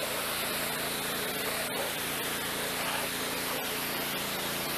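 Pressure washer spray hisses steadily and broadly while rinsing soap off a car during a DIY wash, a close, continuous rushing jet with a few brief breaks in the flow.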